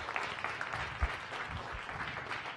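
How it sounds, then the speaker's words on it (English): Applause from a crowd, steady and moderately loud for a couple of seconds, with a faint voice underneath. "Let's give him a round of applause."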